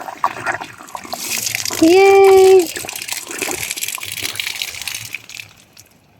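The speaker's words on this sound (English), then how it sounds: "Turning the water on." Water gushes from a tap on farm land after it is switched on, a steady rush under excited voices, with a child's cheer partway through.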